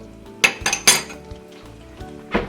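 A spoon stirs peanut butter into a pot of chicken curry, producing a few sharp metallic clinks and scrapes against the pot with brief pauses between them.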